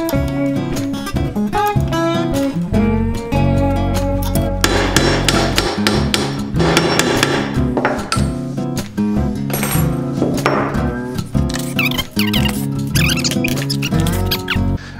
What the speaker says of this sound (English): Hammer straight, and we have a nice hook.